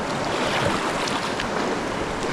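Moving river water on the Hiwassee, a steady broadband rushing wash, close and continuous with no voices.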